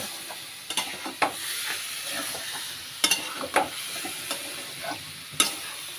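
Chicken curry with yogurt, sugar and green chilies sautés in a pan with a steady close sizzle, punctuated by repeated sharp scrapes and clacks of a stirring spoon against the pan, with no talking.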